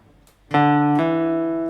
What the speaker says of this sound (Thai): เริ่มที่สาย 5 ช่องที่5 นะครับ ให้เพื่อนๆเล่นแฮมเมอร์ออนไว้ช่องที่ 7 นะครับ